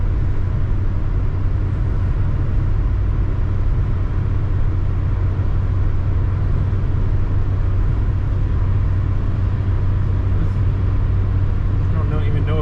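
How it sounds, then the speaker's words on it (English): A 1993 Ford Escort LX 5-speed cruising down a freeway at about 70 mph, heard from inside as a steady, loud, low engine drone mixed with road and wind roar that runs continuously without change. "we're going down the freeway at 70"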